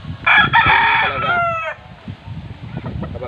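A fighting rooster crows once, loud and close: a long harmonic call that breaks into a falling tail, followed by low clucks and farmyard shuffling.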